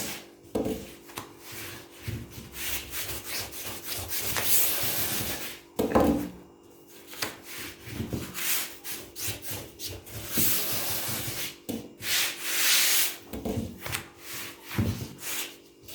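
Thin pastry dough sheets for Turkish su böreği are rolled out on a countertop with a rolling pin, giving repeated rubbing, rolling passes with short pauses, close by and without speech.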